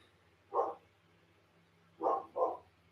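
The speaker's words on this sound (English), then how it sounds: "I have literally no idea what the fuck my dogs are doing." Dogs bark indoors at moderate distance: one sharp bark, a pause, then two quick barks in succession over a quiet background hum.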